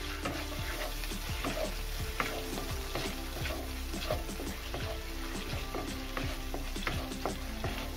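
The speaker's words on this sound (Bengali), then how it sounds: "এই তেলের উপরেই কিন্তু আমি দিয়ে দিচ্ছি কিষান ফ্রেশ টমেটো সস" Kissan fresh tomato sauce sizzles in hot oil for a Bengali badam potol dish, a steady crackling fry dotted with sharp pops and spatters, close and even throughout.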